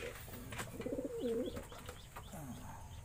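Racing pigeons at a derby race in San Francisco, Quezon Province give a few soft, low coos near the middle, close by over a steady outdoor background murmur.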